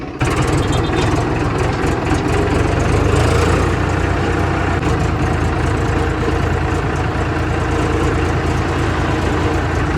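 A farm tractor's engine idles close by in a steady, loud, unbroken low rumble with a mid-range drone that holds throughout, with no talk over it.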